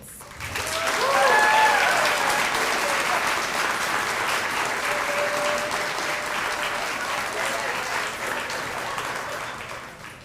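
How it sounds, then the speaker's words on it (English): Sustained audience applause at a multicultural graduation celebration, swelling quickly to a loud, dense roar of clapping and then holding steady before easing off at the end, with a brief voice early on. "Let's give another round of applause for our speakers and Dr."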